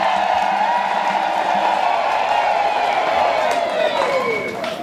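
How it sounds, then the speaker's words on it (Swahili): A congregation at a Catholic Mass bursts into applause mixed with high, trilling ululation. The sound is loud and sustained, fading slightly at the end. "Makofi na vigelegele kwa Mungu."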